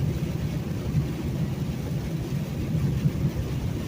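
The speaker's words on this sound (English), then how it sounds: "the rain's still going" Steady rain pelting a truck on a Georgia highway, a dense, even low rumble of falling water and road noise with no pauses, fairly loud and close, no voices.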